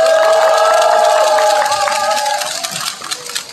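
Crowd at an outdoor protest rally in Chungbuk cheers and applauds a singer, with sustained tones ringing over the noise at first, then the crowd noise tapering off toward the end.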